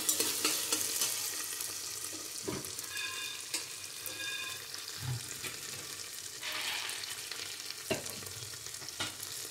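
Raw peanuts roasting in a pan, a soft dry sizzle with occasional scrapes and knocks of a spoon stirring them, fairly quiet and close.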